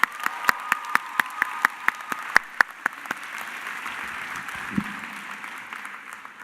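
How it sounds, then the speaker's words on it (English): Applause for student performers at a university celebration, a sparse scatter of individual sharp claps close by over a soft crowd clapping that tapers off. "One last round of applause for our student performers."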